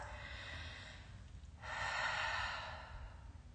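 A single slow, deep inhale and exhale through the nose during a skincare routine, soft and close, with quiet room hiss around it.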